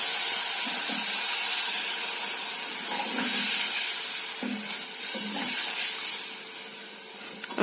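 Water poured into a pan of sizzling chili masala for a Kerala tuna fish curry gives a loud burst of hissing steam and spitting that slowly settles into a steady sizzle, with a few scraping stirs, and no voices.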